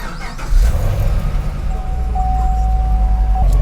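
Chevrolet Camaro engine starting with a brief crank, then settling into a steady, loud, close idle rumble, with a thin whine running through it.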